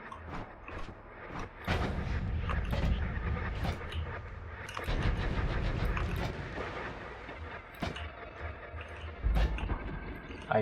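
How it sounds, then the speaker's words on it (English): Machine gun wand firing in the game Noita, a dense, continuous stream of crackling shots with heavy bursts and booming blasts that surge and fade over about ten seconds. "The machine gun doesn't seem to be the best."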